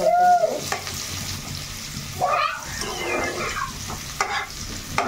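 Onions and cumin seeds fry in a pan as the first step of an Odisha-style prawn curry, giving a steady close sizzle with scraping stir strokes and a few brief sounds over it.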